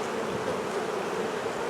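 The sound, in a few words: honey bees buzzing around hive combs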